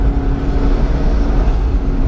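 A McLaren 650S sports car driving on a winding road, heard as a steady, loud low engine drone with a constant mechanical hum and no clear revving.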